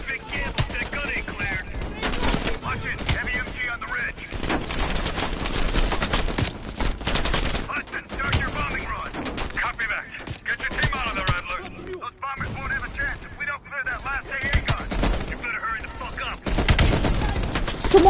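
An anti-aircraft gun firing in the Call of Duty Cold War campaign, rapid repeated heavy bursts with booming impacts, loud and sustained, broken by brief pauses and some speech mixed in.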